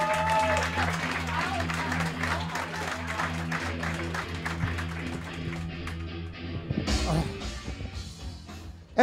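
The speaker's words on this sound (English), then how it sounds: "clap it up as loud as you can for Noah Gardenswartz" A comedy show audience applauds a comedian as he is introduced, sustained clapping and crowd noise with music underneath, ending in a brief louder burst.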